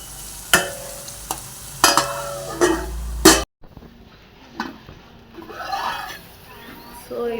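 Onions fry in a pan, with a steady sizzle and several sharp scraping stirs that come in bursts. Someone speaks over the cooking.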